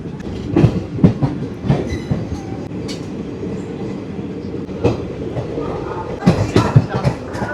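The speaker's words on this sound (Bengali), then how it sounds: "বন্ধুরা, ট্রেন ছেড়ে দিয়েছে ব্যান্ডেল স্টেশন থেকে।" The 22321 Hool Express with ICF coaches rolls out of Bandel station, heard from inside as a steady rumble with rhythmic clickety-clack wheel thumps and sharp rail clanks.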